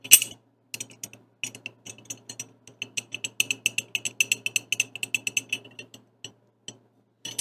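The bolt of a Sako 75 rifle is worked back and forth to check its fit, making a rapid series of light, close metallic clicks and rattles. A faint steady hum sits underneath and there is no talk.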